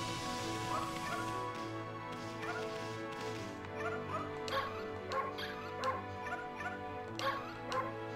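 A dog in the video game Okami HD gives a run of small yips and whimpering barks over steady game music, quick and fairly quiet, growing more frequent toward the end.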